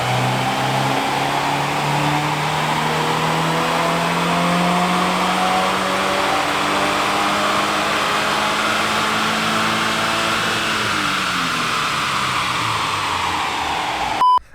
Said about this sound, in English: let's see what this car does on the dyno